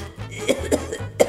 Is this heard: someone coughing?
yes